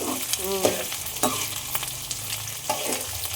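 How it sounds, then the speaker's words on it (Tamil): Garlic and green chillies sautéing in a pan, giving a loud, continuous sizzle close up, broken by a few quick stirring scrapes. "பூண்டும் நல்லா வதங்கணும்."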